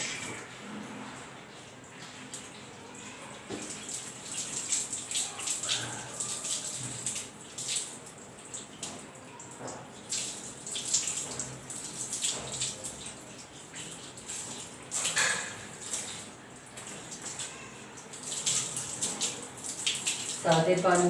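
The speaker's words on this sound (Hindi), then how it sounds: "मैं अच्छे से इनके पूरे बाल धो रही हूँ।" Water runs and splashes steadily as hair is rinsed with plain water during a hair spa treatment, a continuous close hiss with irregular spatter. Someone speaks intermittently over it.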